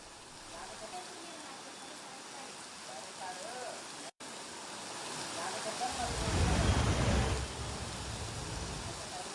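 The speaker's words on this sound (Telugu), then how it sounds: "ఉరుములతో మెరుపులతో కూడిన భారీ వర్షం కురిసింది." Heavy rain pours over Hyderabad city during a thunderstorm, a steady broadband hiss of falling water that swells louder for a couple of seconds midway, with a brief dropout and faint background voices.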